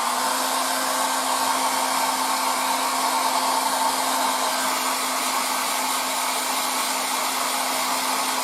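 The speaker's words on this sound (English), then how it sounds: "Now the hair dryer." A hair dryer blows steadily and loudly on a 1:35 scale Type 69-II tank model during painting, a constant whooshing roar with a high motor whine, no talking.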